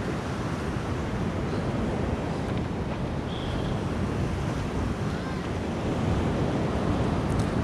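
Winter sea waves roll onto the Crimean coast in a steady, dense wash of surf, close and fairly loud, with wind buffeting the microphone throughout and no voices.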